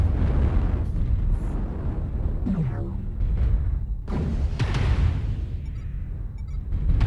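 Airstrike explosions in MechWarrior Online roll in as a series of deep booming blasts over a continuous rumbling battle din, with a falling whistle-like sweep before one heavy impact and further bursts after.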